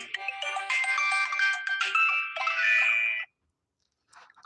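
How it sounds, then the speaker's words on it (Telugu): An electronic phone ringtone plays a bright, repeating melody for about three seconds, then cuts off, leaving near silence with a faint sound at the end. "ఎవరో ఫోన్ వస్తుందండి చూద్దాం"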